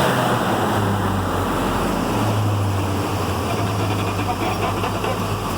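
A 1987 Chevrolet K10 pickup with a throttle-body injected engine, oversized radiator and MagnaFlow-type exhaust runs at a steady, fairly mellow drone, its low rumble shifting slightly as it is given a light rev.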